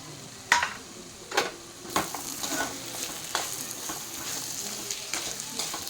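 Potato, carrot, tomato and peas get stirred in a pan, with a sharp scrape or clack at intervals over a low, steady sizzle, close by and with no talking.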